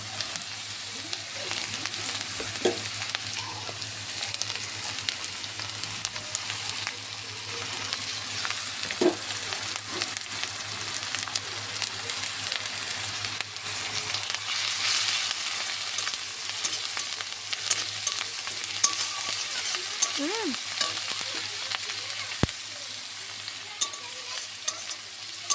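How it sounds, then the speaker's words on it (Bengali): Ginger paste fries in hot oil in a pan for prawn malai curry, making a soft, continuous sizzle and crackle with occasional faint clinks of stirring throughout. "এরপর আমি এই আদা বাটাটা দিয়ে দেবো।"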